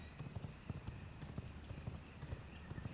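Horse hooves galloping in the video game V Rising, a fast continuous clip-clop rhythm of repeated hoofbeats heard quietly throughout, blended with a faint background wash.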